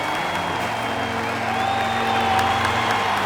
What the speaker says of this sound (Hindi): ये लो तालियां।